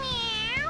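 A cat character in the Persona 5 video game lets out a single drawn-out meow, loud and close, with a wavering pitched cry lasting under a second.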